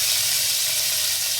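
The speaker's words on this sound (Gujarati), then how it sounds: "લસણ નાખી દીધું." Garlic sizzles steadily in hot oil, a tempering for momo chutney: a close, loud, even frying hiss with no pauses and no voices.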